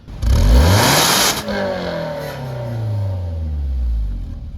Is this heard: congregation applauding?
no